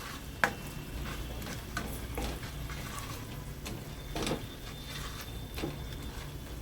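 Sauce cooking in a pan on a very low flame, giving a soft steady sizzle with a few scraping stirs and light clicks of a utensil, close and unaccompanied by talk.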